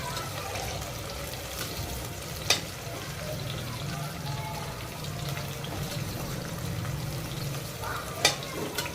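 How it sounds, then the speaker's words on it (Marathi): Green chillies fry in oil with cumin in a pan for vegetable pulao, a soft continuous sizzle with a couple of sharp clinks of a utensil against the pan, quiet and close. "याच्यामध्ये आपण हिरवी मिरची टाकणार आहोत। त्याला तळून घ्यायचं।"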